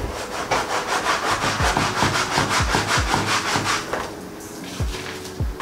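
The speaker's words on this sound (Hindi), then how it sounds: "I just straight up use a old microfibre to rub this of." An old microfiber cloth rubbed hard across a car interior surface in quick, regular back-and-forth strokes, loud and close, slowing and easing off near the end.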